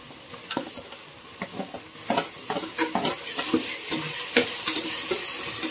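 Tomatoes sautéing in a pan for mutton biryani, a steady sizzle with repeated spatula scrapes and stirs recurring every half second or so, close and fairly loud, with no voices.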